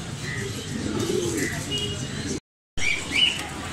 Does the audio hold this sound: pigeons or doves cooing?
yes